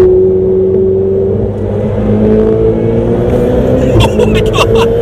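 From inside the cabin of a Ferrari 488 Spider with a window down, the engine pulls hard, its tone climbing steadily, loud and close, with gear changes in the final second.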